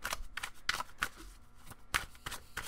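Tarot cards being shuffled by hand in a series of quick, crisp riffling bursts at close range, each burst separated by brief pauses, with no talking.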